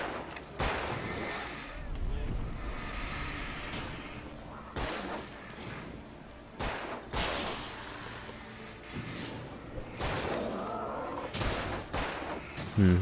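Gunfire in the video game Alan Wake, a series of sharp, loud shots in an irregular rhythm, some spaced apart and some in quick pairs, with game ambience between them.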